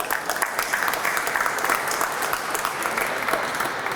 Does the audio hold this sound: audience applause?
yes